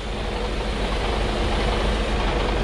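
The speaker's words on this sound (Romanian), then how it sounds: "Și ridic un pic pernele de aer." Truck air suspension is raised with the engine running, giving a steady, loud broadband hiss and rumble from close by that lasts the whole moment with no break.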